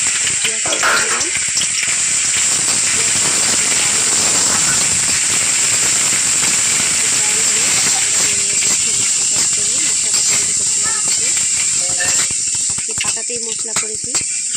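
Onion frying in hot oil with a bay leaf in a kadai, a steady loud sizzling hiss that holds throughout, with someone talking over it.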